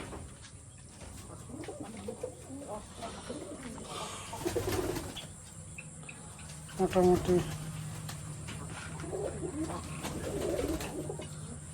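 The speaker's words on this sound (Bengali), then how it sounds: "দেখে যান, অনেক সুন্দর সুন্দর কবুতর আমারটাই।" Fancy pigeons in a home loft, some sitting on eggs and chicks, coo in low, throaty phrases at close range while someone talks over them, with a louder burst of cooing midway.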